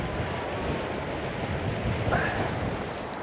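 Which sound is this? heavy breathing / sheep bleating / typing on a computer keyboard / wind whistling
wind whistling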